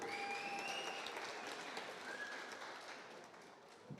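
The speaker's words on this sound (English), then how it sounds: "give him a round of applause" Faint applause from a small crowd at a 2024 graduation ceremony, a soft steady patter of clapping with a few whistles, tapering off toward the end.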